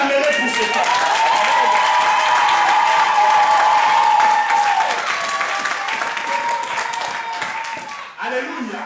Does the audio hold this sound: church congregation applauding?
yes